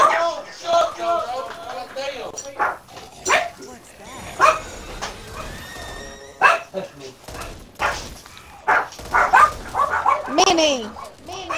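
Dogs bark in Back 4 Blood, a run of loud, uneven barks, yips and whimpers scattered through the stretch, with a person talking in between.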